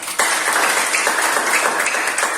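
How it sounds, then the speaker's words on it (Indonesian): Loud classroom applause as a group of schoolchildren clap together in an Indonesian lesson, starting abruptly and continuing as a dense, sustained burst. "Tepuk tangan untuk kalian semua."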